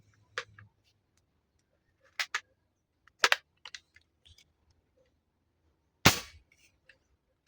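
A homemade PVC bolt-action airgun charged to 100 PSI fires a sharp, loud crack near the end, preceded by several quieter clicks and taps of handling in an otherwise quiet space.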